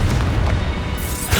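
A Confringo spell exploding in Hogwarts Legacy, a dense, loud, low booming burst sustained across the moment with a brighter crackle near the end.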